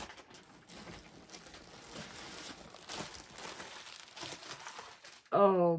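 Close, continuous crinkling of paper being pawed and pushed around by a cat, ending with a sudden louder burst of sound.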